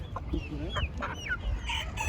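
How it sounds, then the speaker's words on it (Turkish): Village chickens at a poultry market in Ankara clucking and squawking in several brief calls, close and fairly loud over a busy market din, with no speech. "Burada değişik köy tavuklarımız var."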